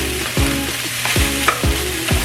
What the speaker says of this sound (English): Just trying to break up the rice. Now, I do have this on a high heat.